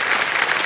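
Studio audience at a quiz show clapping steadily, a dense, even burst of applause filling the short moment.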